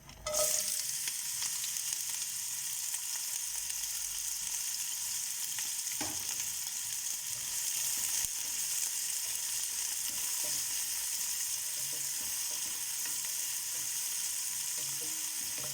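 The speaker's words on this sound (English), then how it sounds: "My oil is hot, so in there I'm going to put my onions." Onions sizzle in hot oil for an East African soup or stew, a loud, continuous frying hiss that starts sharply as they hit the pan and carries on steadily without speech.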